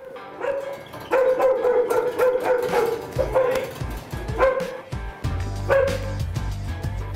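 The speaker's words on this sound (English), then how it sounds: "Let's go look at all these dogs." Several dogs bark repeatedly and overlap in an echoing indoor kennel housing about 30 dogs, loud and continuous with some yips among the deeper barks.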